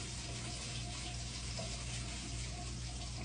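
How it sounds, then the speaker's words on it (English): Steady running tap water pours into a sink as a toothbrush is rinsed, a continuous even gush at close range with no talking. "And I'm going to rinse off my brush."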